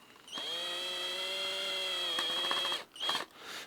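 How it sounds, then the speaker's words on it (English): An electric drill fitted with a thin screwdriver blade whirs up and spins steadily while tightening a wire terminal on a solar power setup, then stops and gives a couple of short bursts; close and clear, no talk. "Now I'm having to use this electric drill because it's the only one I could find with a screwdriver blade that was thin enough to go in here."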